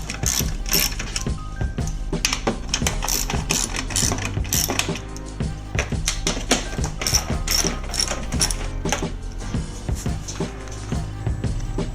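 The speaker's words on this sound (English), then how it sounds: "On the top, there's simply 4 bolts to undo with a 10mm socket." A ratchet with a 10mm socket works bolts loose on a Suzuki SX4, giving a fast, continuous clicking close up, with brief pauses and metallic taps between strokes.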